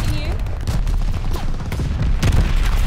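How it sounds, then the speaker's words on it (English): Airstrike explosions in the game Vanguard come as a fast run of heavy booms and gunfire-like bursts, loud and close, with a louder blast near the end and voices shouting under the chaos. "These airstrikes are savage"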